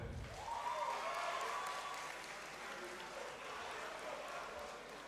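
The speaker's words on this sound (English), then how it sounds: "Please, let's clap for them" Quiet, distant applause from the audience at a pharmacy school white coat ceremony, steady clapping for several seconds with a voice briefly audible at the start.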